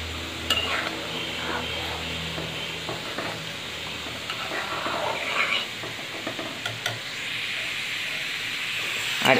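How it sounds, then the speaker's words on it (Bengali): Chili chicken stir-fried in a pan on a gas stove, a continuous sizzle and hiss with scraping stirs and occasional clinks of a spatula against the pan, faint voices in the background. "প্রায় রেডি হয়ে গেছে"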